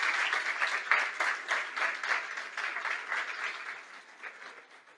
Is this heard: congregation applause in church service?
yes